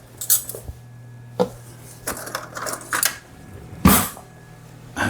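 A knife cuts open a freshly baked focaccia close up. The crust gives off several sharp, scattered crunches and crackles with quiet pauses between them.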